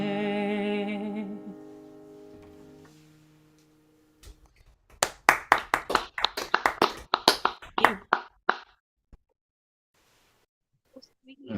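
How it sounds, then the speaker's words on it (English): A quick burst of about a dozen sharp hand claps at an open mic night, close and uneven, following a fading electronic tone and then quiet. "I got to get my clapping in"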